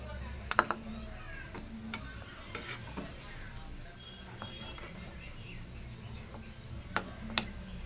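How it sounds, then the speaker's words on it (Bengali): Fried onions and three bay leaves sizzle softly in a wok, with scattered sharp clicks and scrapes of stirring over a quiet, steady background. "অল্প কিছু বেরেস্তা কড়াইতে রেখে দিয়েছি, তার ওপর 3টে তেজপাতা দিলাম।"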